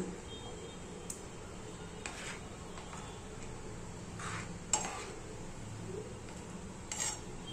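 Rava (semolina) being stirred in a pan for modak, soft scraping and stirring with a few sharp metallic clinks of a spoon against the pan, faint and close against a low background hum.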